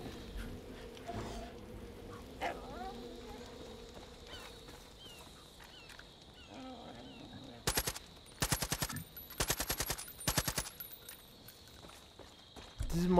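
Rapid bursts of automatic gunfire in the Far Cry 5 video game, several sharp volleys clustered near the end after a stretch of quieter ambient game sound, with occasional talk mixed in.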